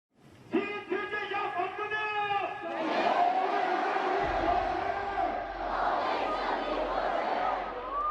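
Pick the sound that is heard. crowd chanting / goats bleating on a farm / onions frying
crowd chanting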